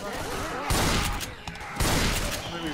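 Rapid bursts of video game gunfire in a zombie co-op shooter, loud and dense for the whole stretch with brief swells, while a voice talks over it.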